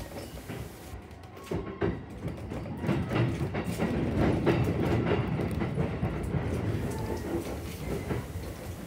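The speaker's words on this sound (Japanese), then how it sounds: "目の前に止まっているのは相模線で使用されている205系500番台です" A JR 205 series 500 commuter train on the Sagami Line at Hashimoto Station rumbles close by with a steady rolling roar and rhythmic wheel clatter that swells in the middle, with no talking.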